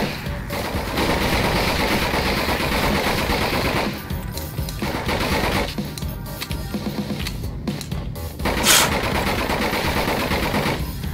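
Sustained gunfire in the horror shooter Nightmare House 2, with loud, dense rapid shots from close range rattling on almost continuously and only brief pauses between bursts.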